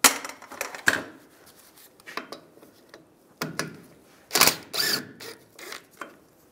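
Several sharp metallic taps and clanks as a hammer taps a T30 socket onto a screw, in uneven bursts, close up, with quiet pauses and small mechanical clicks in between; rear ABS wheel speed sensor job on a 2007-2013 Chevrolet Silverado 1500.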